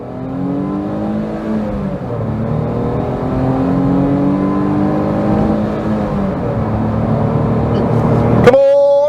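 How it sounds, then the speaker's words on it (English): A small three-cylinder engine in a Smart Fortwo drones and climbs steadily in pitch as the car accelerates, a buzzy, continuous hum up close, ending with a sharp higher whine. "the 3-cylinder engine sounds fantastic"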